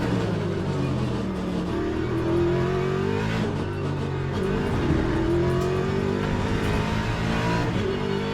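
LMGT3 race car in a racing video game runs at speed with a steady, loud engine drone that shifts pitch as it accelerates and brakes, with rougher rattling patches where it rides over kerbs, continuous throughout.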